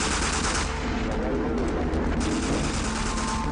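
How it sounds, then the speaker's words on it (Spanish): Gunfire rattles during the Waco shootout, rapid bursts of shots that sound like automatic weapons, loud and continuous throughout, with voices faintly mixed in. "You could hear lots of people being shot."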